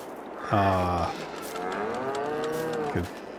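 Two drawn-out cow moos in close succession in Farming Simulator 22, the first short and loud, the second longer and steadier, over a low background hum.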